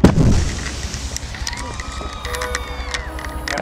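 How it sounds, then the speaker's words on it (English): Pyrotechnic fireball explosions at an effects shoot, a loud deep boom at the start followed by a rumbling roar and scattered crackles and debris falling around a command area. "Impressive fireballs, guys."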